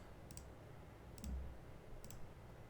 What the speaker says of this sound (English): And all I'm doing is just clicking.